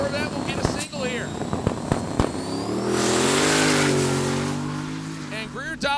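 A Corvette launching on a drag strip during a qualifying single pass at a street car drag racing event, engine roaring loud and close and sweeping upward before fading, with a commentator talking over parts of it.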